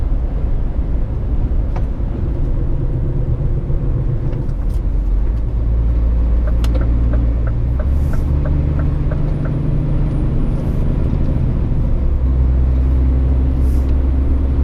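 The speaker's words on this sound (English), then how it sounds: "I think we've pretty much got all 18 trucks together now" A convoy of 18 trucks driving on a road in Russia, heard as a deep, steady engine rumble from inside a cab, with faint clicks and brief higher tones over the drone.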